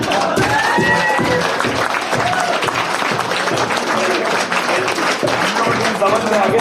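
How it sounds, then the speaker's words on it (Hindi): An audience at a meeting in Nainital breaks into loud, sustained applause, many hands clapping at once in a dense, steady roar with voices mixed in. "एक बार ताली बजाओ जरा"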